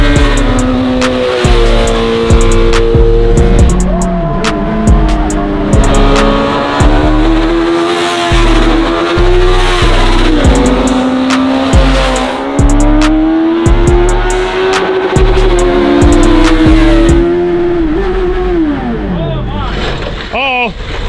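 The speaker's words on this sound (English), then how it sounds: "I heard a lot of rev limiter and then nothing." A mini truck swapped with a sport-bike motorcycle engine revs hard and bangs repeatedly off its rev limiter, a loud, close, high-pitched buzzing wail held for about twenty seconds with rapid stuttering cuts, while people talk over it.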